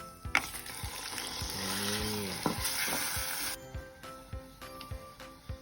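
Minced pork sizzles loudly in a hot pan with garlic, with a spatula scraping and tapping rhythmically against the metal as it is stirred.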